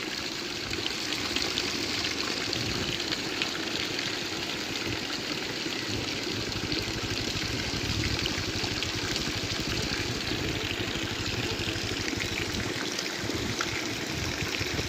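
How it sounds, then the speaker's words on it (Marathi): Water gushing on its own from a hand pump without any pumping, a steady continuous splashing stream running unbroken throughout, with a faint low hum underneath. "न हापसता पाणी बाहेर पडत आहे मित्रांनो."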